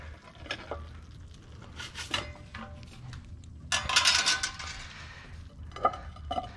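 A cooked pizza from a Gozney Dome oven is placed on a plate, with scattered scraping and metallic clatter of the peel and utensils. The sounds come in brief, close bursts with short pauses between them.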